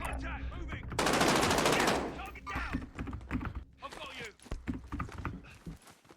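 AK rifle fire in Apex Legends, a loud rapid burst of automatic shots lasting about a second, followed by scattered quieter clicks and game sounds while a player talks.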